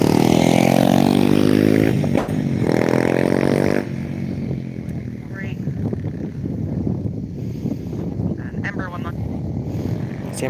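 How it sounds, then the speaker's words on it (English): An Embraer 190 jet airliner lands at Skiathos with a loud, sweeping engine roar that passes close for about four seconds. Wind buffeting and people talking follow. "Embraer 190 landing."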